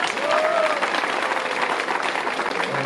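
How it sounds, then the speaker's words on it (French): Steady applause from a crowd at an outdoor summer evening festival opening in Arnay-le-Duc, France, a continuous wash of clapping hands filling the space, with faint voices mixed in. "Alors on peut l'applaudir."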